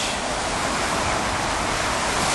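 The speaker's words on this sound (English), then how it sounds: "And we hear the rumble of the traffic" Traffic rumbles on and around the Brooklyn Bridge over the East River, a continuous broad wash of road noise that holds steady and loud, with no voices.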